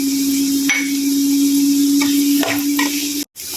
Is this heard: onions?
yes